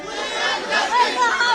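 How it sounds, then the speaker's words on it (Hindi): A crowd of women gathered outside a house chants and clamors in a dense, overlapping mass of voices, loud and close, with no single speaker standing out. "वी वांट जस्टिस के नारे लगाए जा रहे थे"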